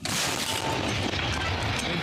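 A tank gun fires a heavy, sustained boom that fills the whole clip, loud and broadband, rumbling and echoing outdoors.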